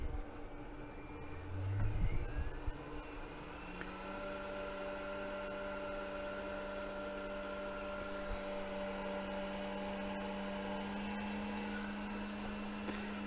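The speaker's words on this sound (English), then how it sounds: "and then start the spindle up" A CNC 4040 router's spindle starts up with a low thump, then a steady whine rises and settles into a continuous high tone over a constant machine hum, fairly close and with no talk.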